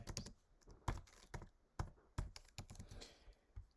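Short bursts of computer keyboard typing as a Jupyter notebook is named, irregular clusters of close, crisp key taps and thunks separated by brief pauses, fairly quiet with no talking.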